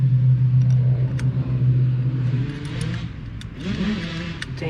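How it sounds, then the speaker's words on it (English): An 80cc two-stroke motorized bike engine runs close by, a buzzy idle that rises and falls with a few throttle blips. "Damn, that's what you call a two-stroke."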